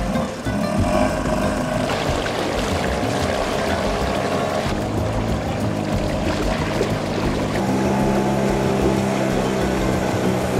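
Motorboat driven by outboard engines heading upriver, a steady loud engine drone with water rushing around the hull throughout, no voices.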